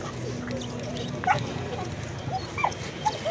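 Dogs whimpering and yipping at an outdoor dog market in Casablanca, scattered short whines and yips over a busy background of voices and crowd noise.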